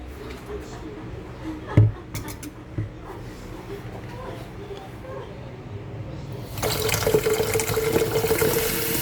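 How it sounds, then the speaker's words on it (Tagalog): Tap water runs into a container to be heated, coming in as a steady rushing stream in the last few seconds after quieter handling knocks, while someone talks throughout. "So, mag-init tayo ng water."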